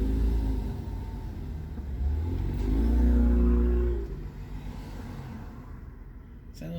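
A small silver car drives past with its engine revving: a low rumble swells to a peak and then fades off, with a brief noise at the end.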